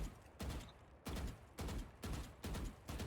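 Rifle fire in the shooter game Valorant, five or six short rapid bursts of shots in an even rhythm, loud and close, with nothing else in between.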